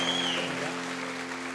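Applause for a priest fills a church during a Catholic praise night, a dense wash of clapping with steady musical tones sustained underneath.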